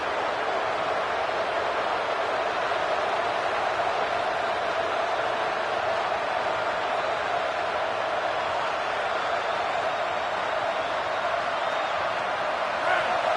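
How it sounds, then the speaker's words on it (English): Steady roar of a packed stadium crowd at a college football game, a dense, unbroken wash of cheering and noise heard from within the stands. "This crowd bringing the energy and noise early."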